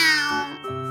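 A single cat meows clearly, a drawn-out cry that falls in pitch and ends in a short second call. Close and fairly loud, no talking.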